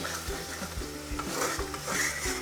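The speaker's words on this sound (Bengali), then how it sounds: "মাংসটা সেদ্ধ করেছিলাম সেটার স্টকটা আমি অল্প করে এভাবে দেব আর মাংসটা মাংসর মশলাটা কষবো" Spicy mutton masala frying in a pan as mutton stock goes in a little at a time, with a spoon stirring and scraping in steady repeated strokes over a continuous sizzle.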